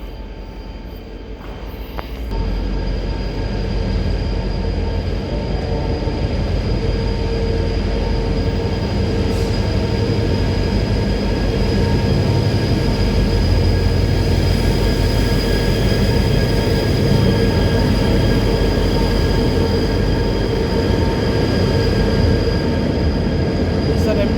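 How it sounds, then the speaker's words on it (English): An empty coal freight train rumbles past a station platform steadily for the whole stretch, heavy low roar with faint metallic squeal, loud and close, with a few faint voices underneath. "Empty coal locos H30 on platform number 1."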